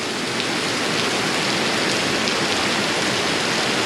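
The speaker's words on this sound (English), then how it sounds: "Rain's kicking now." Steady, heavy rain hisses continuously, a dense wash of drops on surfaces with no pauses or voices.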